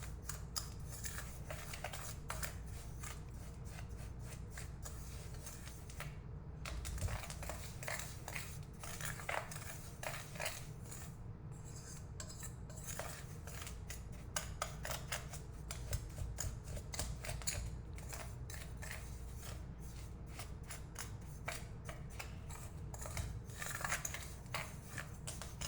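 Cornstarch being mixed by hand into kinetic sand, a long run of close, dry, gritty scraping and crunching strokes in an irregular rhythm, fairly quiet, with no talking.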